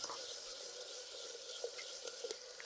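Onions sauté in a pan for a drumstick-leaf biryani, producing a steady, close, hissy sizzle with faint stirring clicks and no pauses.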